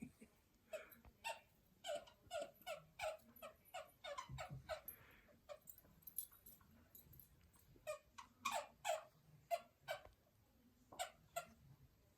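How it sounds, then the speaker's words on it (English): A quick run of sharp, high squeaks comes in rapid bursts of short chirps, close and fairly loud, with brief pauses between groups. "A squeaky noise."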